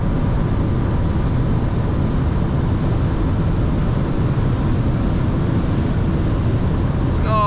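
A 2014 BMW 640i Gran Coupé at high speed gives a loud, constant engine drone mixed with road and wind roar, steady throughout, with a brief chirp near the end.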